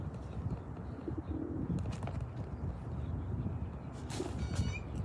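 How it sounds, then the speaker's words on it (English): Pigeons coo close by outdoors, soft low murmuring calls running steadily through light background noise, with a brief brighter chirp near the end. "These birds are so close."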